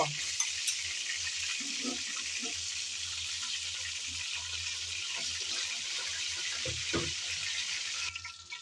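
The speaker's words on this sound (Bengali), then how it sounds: "মাছ কিন্তু ভাজা হয়ে গেল, একটা একটা করে আমি তুলে নেব।" Pangas fish pieces fry in oil in a pan, a constant loud sizzling hiss with occasional soft knocks and stirring sounds, and no talk.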